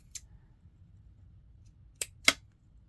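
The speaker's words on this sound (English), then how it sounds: "let me use my fabric scissors" Fabric scissors trimming a wedding appliqué give three short, crisp snips, one early and two close together near the end, quiet and close with a faint low background between them.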